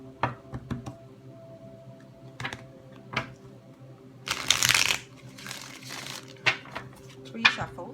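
A deck of tarot cards is shuffled close up: soft taps and flicks, then a dense riffling burst, more rustling and light card knocks, with quiet room noise between.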